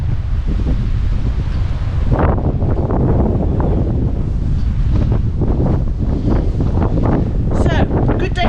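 Strong wind gusts down a dusty valley outside a cave house, roaring and buffeting loudly against the microphone in a continuous rush, with a voice faintly underneath.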